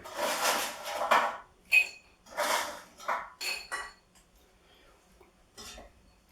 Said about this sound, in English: You can hear how crispy they are when they hit the bowl.